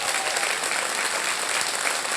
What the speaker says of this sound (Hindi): प्लीज जोरदार तालियां उनके लिए।